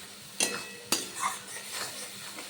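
A spoon stirs masala in a frying pan for Bengali potol chingri, two sharp metallic scrapes against the pan over a soft, steady sizzle, with no talk.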